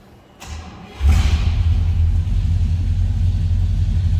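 A 1960 Chrysler New Yorker engine cold-starts with a brief cranking whir, then catches with a loud thump and settles into a heavy, steady low idle rumble close by.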